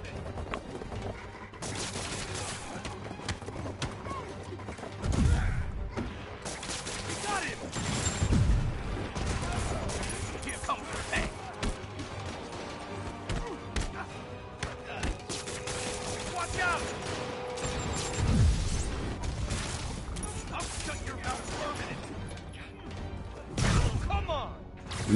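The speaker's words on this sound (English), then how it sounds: "Guys with these rocket launchers, man." Rocket launcher blasts and explosions in the Spider-Man Remastered video game, with heavy booming bursts recurring through a dense, noisy battle soundscape, under speech.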